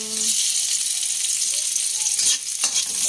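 Garlic frying in a pan gives a steady, close bright sizzle with light stirring scrapes throughout, constant and loud.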